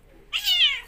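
A cat gives one short meow up close, with a rising then falling pitch, against a quiet background with no speech.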